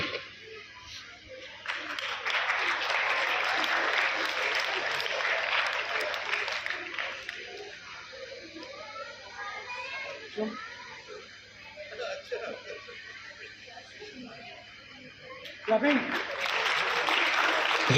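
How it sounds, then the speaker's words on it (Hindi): Loud applause from an audience at a school felicitation ceremony, steady broad clapping that swells and lasts most of the stretch, with laughter and voices mixed in and a fresh burst near the end. "जोरदार तालियां।"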